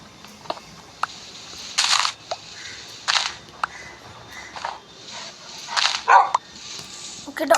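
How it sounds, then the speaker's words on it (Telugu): In a Minecraft game, a dog gives several short, separated barks and yips over quiet background noise, sounding clipped like a game effect. "dog dog dog dog dog చంపేసింది"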